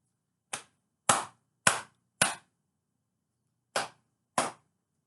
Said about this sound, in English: I'm going to clap, and then I'll ask you how many times I clapped.